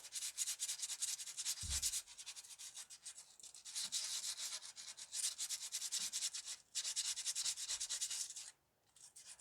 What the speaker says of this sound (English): Go on and sand that little burr off that